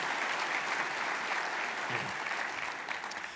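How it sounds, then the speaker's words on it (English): A room full of people applauds at a State of the City address, a dense, even wash of clapping that holds steady and fades slightly near the end. "How about a round of applause for our commitment to the arts"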